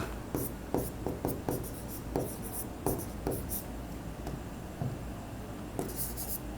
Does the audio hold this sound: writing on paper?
yes